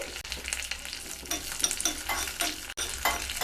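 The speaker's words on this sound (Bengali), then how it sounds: "তেল যখন গরম হয়ে যাবে দিয়ে দেব কারি পাতা আর দিয়ে দেব 2 কাঁচা লঙ্কা, 1 চামচ কালো সর্ষে।" Curry leaves, green chillies and black mustard seeds crackle and sizzle in hot oil for a suji dhokla tempering, a dense, close spitting with sharp pops and stirring scrapes throughout.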